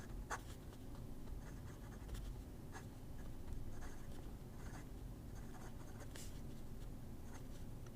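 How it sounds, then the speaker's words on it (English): Montblanc 146 fountain pen with a 14-karat medium nib writing on paper with the cap posted, faint soft scratching strokes in irregular short bursts over a low steady room hum. "I like writing with this pen capped, posted"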